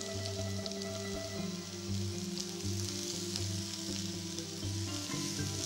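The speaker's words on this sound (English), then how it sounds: "Add the onions and saute for 5 to 6 minutes until they soften." Chopped onions sauté in hot olive oil in a frying pan, a steady, dense crackling sizzle that holds evenly throughout, close and continuous with no speech.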